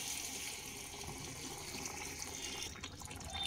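Hot water is poured into a pan of jackfruit and prawn curry, a faint, steady splashing stream of liquid that continues without talk.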